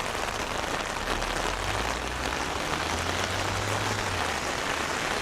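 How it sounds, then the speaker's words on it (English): Heavy rain and bits of hail pound steadily and loudly on an umbrella outdoors, a dense, continuous hiss with no break and a faint low rumble underneath. "it's like bits of hail falling right now"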